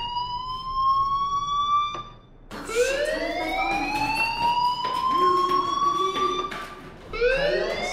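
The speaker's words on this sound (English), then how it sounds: "Hey, do you hear that fire alarm?" A fire alarm wails in the video game Life is Strange, a rising electronic siren tone that sounds once, breaks off briefly, then returns in repeated sweeping cycles, loud and continuous.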